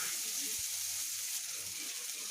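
Mustard seeds, cumin, green chili and onion fry in a wok with a steady, soft sizzling hiss, fairly close and continuous, with a faint low knock early on.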